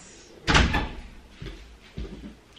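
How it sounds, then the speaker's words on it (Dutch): An indoor door is pushed shut with one sharp, fairly loud thud, followed by two fainter knocks as it settles against the frame, with no voices. "Deur eventjes dicht."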